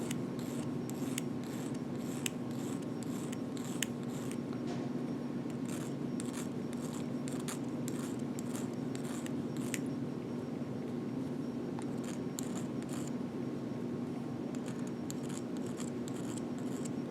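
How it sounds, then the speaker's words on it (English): A hand file works lightly over pushed-up metal to flatten it during saw piercing, making faint, repeated rasping strokes in a steady back-and-forth rhythm, close and quiet throughout. "really lightly you're just going to file that pushed up metal"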